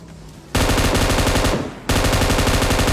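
Loud automatic gunfire in a video game, a sustained rapid stream of close shots that breaks off briefly and then resumes at the same fast, even rhythm.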